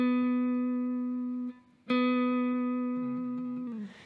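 Blues electric guitar vibrato: two sustained bent notes with a wide, singing waver, the second struck sharply after a brief pause and ending with a slight downward slide, played alone.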